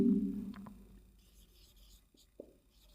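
Writing on a board during a lesson gives faint, brief scratching strokes in a quiet room. A low hum opens the passage and a couple of sharper marks come near the end.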